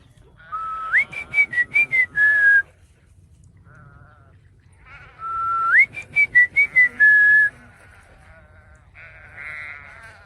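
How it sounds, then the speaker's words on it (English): Two bursts of loud, close whistling call a flock of sheep, each a run of short sharp pulses rising into a sliding tone, separated by a brief pause, with faint bleating in the background. "Might as well call some sheep over."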